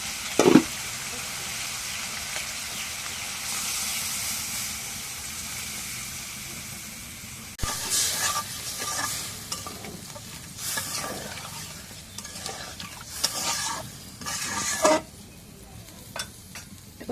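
Water poured into a pan of stir-fried shing catfish sets off a loud, broad hissing sizzle; a steady fry gives way to a sharp change and then bursts of bubbling and stirring scrapes, with no talk.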